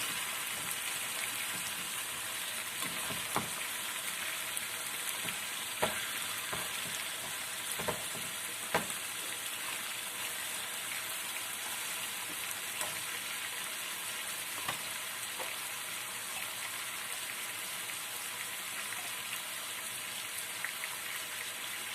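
Turkey pieces frying in a pan, a steady dense sizzle throughout with scattered pops and light clicks of the pieces being turned, close and continuous with no talk.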